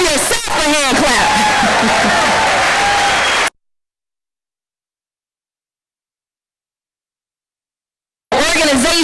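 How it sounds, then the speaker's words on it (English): Crowd applause and cheering at an outdoor rainy press conference in West El Paso with Democratic lawmakers, loud and dense for about three seconds with voices mixed in, then cutting to silence before resuming briefly at the end. "Give yourself a hand clap."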